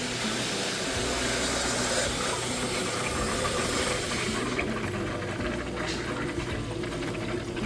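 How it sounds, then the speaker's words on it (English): Water rushing into home aquarium tanks in a tropical fish room during an automatic water change, a constant, close, broadband splashing hiss that continues without pause. "Alexa, turn the water change on for 5 minutes."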